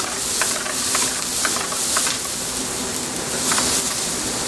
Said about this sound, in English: we're just going to saute that up, just kind of pulling that fond from the bottom of the pan.